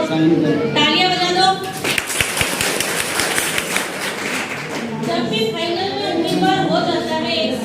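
Students at a government higher secondary school clap together in a dense burst of applause lasting a few seconds, with speech before and after it.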